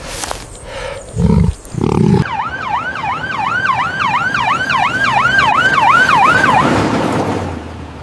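A cartoon ambulance siren cycles rapidly up and down again and again, loud and steady, after a few rough bursts of noise at the start.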